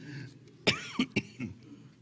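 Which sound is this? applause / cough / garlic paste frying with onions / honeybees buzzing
cough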